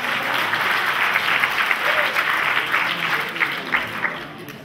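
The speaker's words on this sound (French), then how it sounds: "C'est pour que vous applaudissiez 2 fois, hein." A seated audience at a formal ceremony claps steadily as a dense wash of many hands, loud and close throughout and fading slightly at the end.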